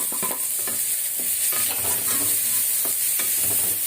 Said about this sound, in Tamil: காய் வதங்கினாங்க, வதங்கிறதுல தாங்க எல்லாமே வேலையே